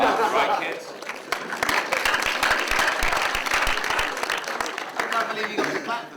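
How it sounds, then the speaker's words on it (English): Clapping from an audience at a film event rolls on as a dense, fairly close wash of hands, with crowd chatter and voices mixed underneath throughout. "I can't believe you got to clap for that."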